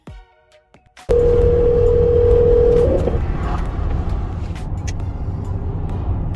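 A telephone call placed to a police department: a steady, loud dial tone holds for about two seconds after a quiet start, then gives way to a dense, noisy line hiss with faint clicks.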